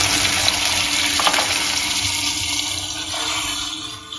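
Sliced pork hits a little hot oil in a wok and sizzles steadily and loudly, a close, continuous frying hiss with some stirring.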